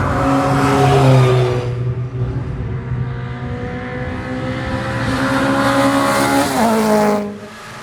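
Legends race car with a sequential gearbox on a track lap, engine loud and close, braking and downshifting into a hairpin with revs dropping in steps, then pulling back up as it accelerates out.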